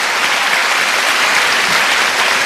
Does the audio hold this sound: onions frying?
no